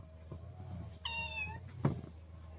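A domestic cat in a rural village gives a single clear meow of about half a second, fairly close, over quiet outdoor background with a faint thump just after.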